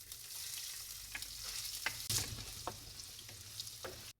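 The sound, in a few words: ginger frying in coconut oil in clay pot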